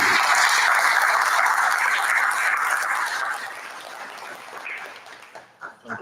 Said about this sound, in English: a round of applause, please. Let's congratulate our new administrators